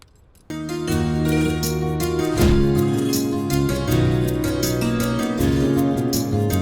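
A melodic phone ringtone starts abruptly after a short silence and plays on, a bright electronic tune with shifting notes, loud and clear.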